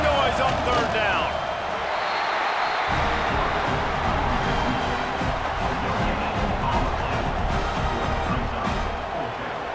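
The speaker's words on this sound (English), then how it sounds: "This dog crowd is off the leash, and they are coming after them, bringing noise on 3rd down." Simulated stadium crowd roaring steadily and loudly in College Football 26 during a Georgia vs Charlotte game on third down, a dense continuous wall of noise with a voice talking over it.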